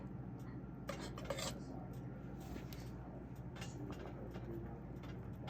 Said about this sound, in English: Just going to give it a little stir every once in a while